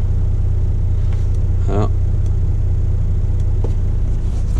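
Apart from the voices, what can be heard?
truck engine running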